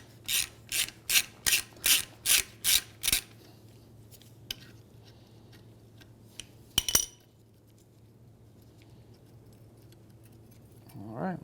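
A hand ratchet clicks in eight quick, even strokes, loosening a 10 mm bolt from a strut bracket on a 2003-2011 Honda Element, followed by quiet metallic handling, a short clatter of parts and a faint grunt at the end.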